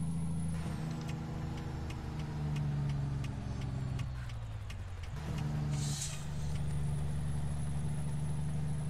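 An American Truck Simulator truck engine idles and rumbles at low RPM, steady and loud throughout, with a row of sharp clicks partway through and a brief hiss near the end.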